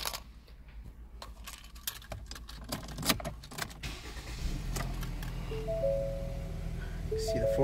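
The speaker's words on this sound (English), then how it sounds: "As I start this vehicle up here" A 2017 Ford Escape FWD starts from inside the cabin: key jingles and switch clicks come first, then the engine cranks and catches into a steady low idle hum with a rising whirr, close and moderately loud.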